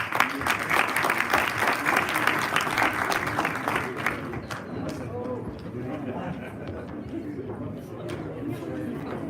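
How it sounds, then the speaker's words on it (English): Audience at a conference on Palestine applauds its speakers, a dense burst of clapping for about four seconds that thins into scattered claps under murmuring crowd chatter. "Big hand of applause for all our speakers."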